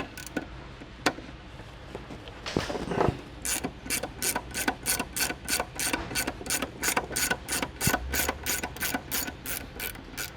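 A socket wrench with an 18mm socket ratchets out the lower shock bolt during a Ridetech coil-over install on a Dodge Charger or Challenger. Close, crisp clicks repeat steadily for several seconds after some initial fumbling.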